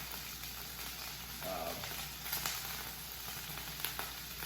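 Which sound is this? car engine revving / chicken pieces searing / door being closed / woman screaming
chicken pieces searing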